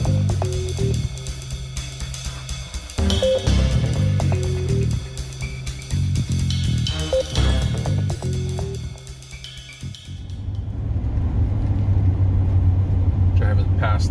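A car drives past a Nestle plant on District. A steady, close engine rumble runs throughout, with a rougher road noise in the last few seconds. A voice talks over it for much of the time.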